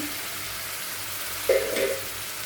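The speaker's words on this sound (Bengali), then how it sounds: "এটাকে আগে আগে অল্প ভেজে নেব আর একটু হলুদ দিয়ে দেব" Taro pieces fry in oil with turmeric, giving a soft, continuous low sizzle with a brief clink or scrape partway through.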